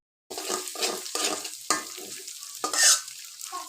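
Eggs being stirred with noodles in a pan for pasta noodles, a spatula scraping in a series of short strokes over a soft sizzle, close and fairly quiet with no voices.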